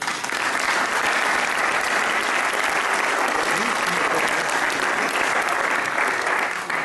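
An audience gives Luis Okoroa a loud, steady round of applause at a club history gathering, with dense clapping that continues for the full seven seconds and no voices above it.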